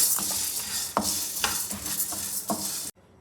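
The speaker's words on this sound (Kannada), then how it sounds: "ಸಣ್ಣ ಉರಿಯಲ್ಲಿ ಹುರ್ಕೊಬೇಕು ನೀಟಾಗಿ" Moong dal and chana dal dry-roasting in a pan on a low flame, a soft continuous rustle broken by several spoon scrapes and stirs, up close, ending abruptly in quiet.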